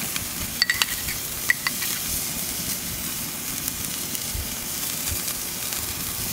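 A thin-cut porterhouse steak topped with melting butter sizzles over a hot grill fire, a steady faint hiss broken by a few sharp crackles and pops near the start, with no talk.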